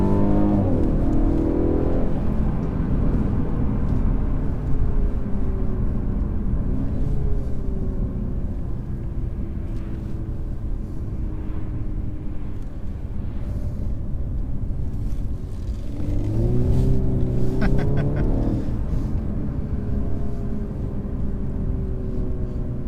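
A 2017 Mercedes E300 engine revs up through the gears, rising in pitch, dropping at each shift, then climbing again under steady road rumble.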